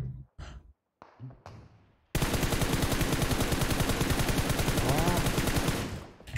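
A burst of rapid video-game gunfire from a Kar98 rifle lasts about four seconds, loud and dense, after a few sharp separate shots and short sighing breaths.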